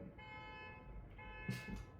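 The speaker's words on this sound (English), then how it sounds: "that beeping is driving me crazy" Steady electronic tones hum in the background with a brief rustle near the end; no speech, low and continuous.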